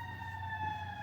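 Emergency sirens pass at a distance, a faint, steady layered wail of sustained tones held over a low rumble, with no voices.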